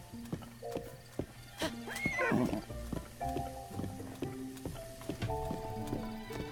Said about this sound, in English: I love how our horse won't let us stampede through town.